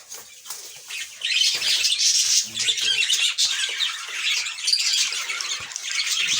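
Cockatiels squawk and flutter among other birds kept in breeding boxes, with harsh overlapping calls and wingbeats running steadily throughout at close range, fairly loud, no talk.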